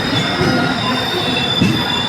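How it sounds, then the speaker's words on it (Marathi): A train at Kalyan railway station, its wheels squealing against the rails in a high, sustained metallic whine that swells briefly near the end, loud and close over steady rolling rumble. "समोर कुठली तरी ट्रेन उभी आहे."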